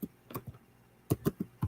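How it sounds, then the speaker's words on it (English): Typing on a computer keyboard, a few quick, soft key taps in two short bursts separated by a pause, close and quiet. "Y'all gonna hear me typing, don't start."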